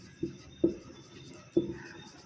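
Pen or chalk strokes writing out a quadratic equation, three distinct taps and scratches at uneven intervals against quiet room noise.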